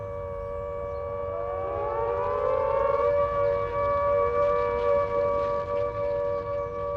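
Air raid all-clear siren, a loud wailing tone that rises over the first few seconds and then holds a steady, sustained pitch with slight pulsing, heard alone.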